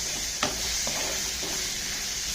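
Onions sizzle and fry in a pan while paneer bhurji is cooked at home, giving a steady close hiss with a couple of faint stirring scrapes.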